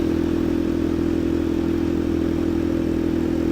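Honda Grom clone motorcycle with a swapped ZS-190 engine running at a steady, even drone during a short loop ride, constant and fairly loud with no voices.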